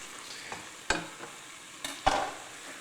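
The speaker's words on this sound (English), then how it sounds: "my minced meat is not fully cooked, but I'm getting a little bit of brown, and I'm mushing it to make sure it's smooth" Minced meat browning in a pan as it is stirred and mashed smooth, with a soft sizzle underneath and a few sharper scraping strokes.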